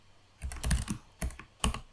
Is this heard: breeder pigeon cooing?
no